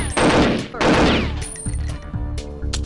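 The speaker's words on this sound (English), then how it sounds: "I always wonder why the muzzle disappears on this gun when you do the alt fire." Alternate fire from a gun in Perfect Dark gives two heavy, roaring blasts in quick succession, then a string of lighter, rhythmic mechanical pulses.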